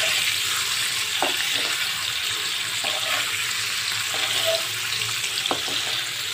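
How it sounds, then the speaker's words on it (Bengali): Paneer pieces frying lightly in oil and gently stirred, producing a soft, steady sizzle with occasional light clicks and scrapes. "আস্তে আস্তে পনিরগুলো ছেড়ে দিলাম, হালকা ফ্রাই করব, নাড়াচাড়া করেই তুলে নেব।"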